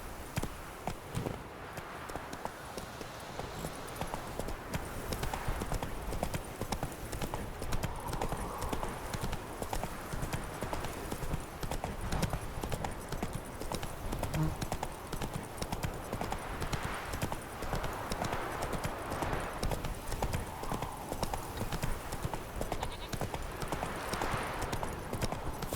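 Hooves clip-clop steadily and continuously as a horse is ridden at a trot in The Witcher 3, an even, rhythmic beat that runs the whole time at moderate loudness.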